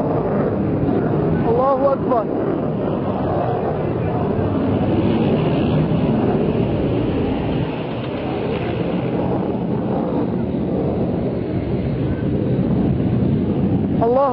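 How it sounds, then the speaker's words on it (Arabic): A MiG military jet passes overhead during heavy shelling of Harran al-Awamid in rural Damascus, a continuous loud rumbling roar with wind buffeting the microphone while people shout. "طائرة الميج"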